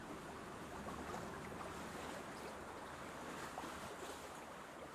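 Ocean waves wash onto a beach in a steady, dense roar of surf with wind noise, faint and continuous, no distinct breaks.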